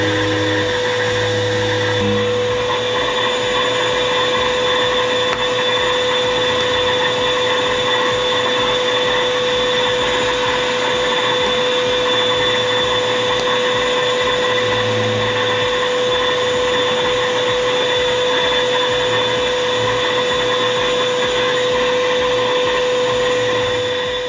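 A GuliGuli pet grooming kit runs as a vacuum with a hose and attachment fitted, giving a steady loud motor whine with a sustained high tone throughout, a brief shift near the start as it powers up.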